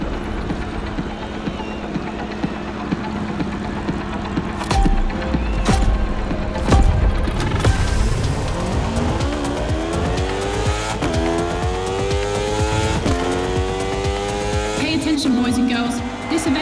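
Racing engines in The Crew Motorfest, a loud steady drone that climbs through rising and falling gear sweeps, with a few sharp shifts and tire noise mixed in, and voices talking over part of it.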